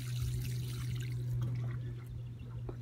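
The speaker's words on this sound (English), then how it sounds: "I'm just gonna rinse the plant off with some water" Water pours from a container to rinse and soak down a sunburned tomato plant in an organic garden, a soft steady splashing trickle with a low hum beneath and no talking.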